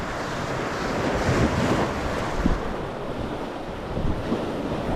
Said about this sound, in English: Wind's picking up a little bit though from me left.